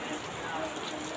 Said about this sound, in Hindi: बारिश आ गई है।